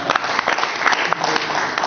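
An audience at a leadership lecture breaks into continuous applause, a dense, steady patter of many hands clapping close by for about two seconds.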